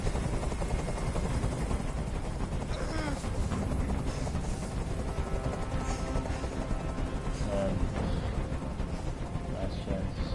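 A helicopter hovers in the video game Detroit: Become Human, a steady loud rotor drone filling the whole stretch, with game voices speaking over it and scattered sharp effects.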